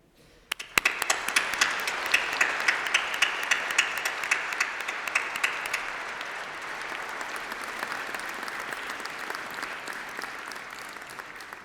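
A graduation ceremony crowd bursts into loud applause that holds steady, then gradually thins and softens while many hands keep clapping.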